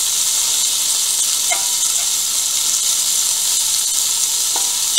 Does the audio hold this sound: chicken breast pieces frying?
yes